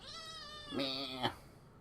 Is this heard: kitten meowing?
yes